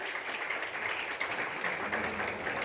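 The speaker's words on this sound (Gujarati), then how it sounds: "આપણે તાળીઓના ગડગડાટ સાથે એમને વધાવીએ" An audience applauds to welcome a speaker at a religious discourse lecture series. The clapping is continuous and evenly dense, a crowd-wide patter heard from a moderate distance, with no talk over it.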